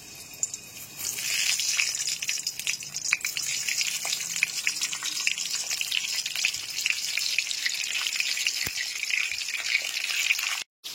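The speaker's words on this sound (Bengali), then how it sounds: "গ্যাসের ফ্লেমটা মিডিয়াম টু হাইতে করে পটলগুলোকে 5 থেকে 6 মিনিট ধরে ভালো করে ভেজে নেব।" Pointed gourd (potol) coated in salt and turmeric frying in refined oil in a wok over a medium-high gas flame, a steady bright sizzle with crackling spits that runs continuously before cutting off at the end.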